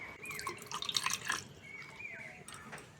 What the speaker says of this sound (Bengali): বাটিতে অল্প একটু জল নিয়ে নেব।